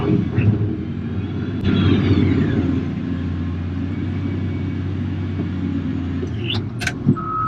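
A Cat wheel loader's diesel engine rumbles steadily and loudly as the machine digs into a stockpile for a bucket load, with a brief rise in engine effort and faint higher whines near the end.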